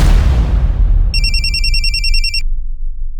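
A telephone bell rings in one sustained, trilling burst of about a second over a loud, low background rumble in a police crime drama.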